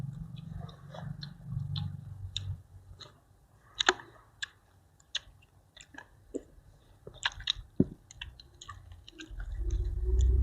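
Close chewing of a crunchy Thai pounded salad with blanched shrimp and fermented fish sauce: irregular crisp crunches and wet clicks, with a low rumble at the start and end.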